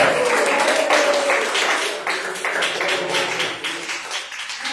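Applause at an evening church service in praise of Jesus, a steady broadband patter of clapping hands that fills the whole stretch and fades slightly toward the end, with faint tones running underneath.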